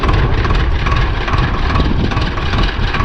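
A tractor stuck in heavy, sticky field soil while harrowing, its engine roaring loud and close in a continuous low, rough drone with no talk.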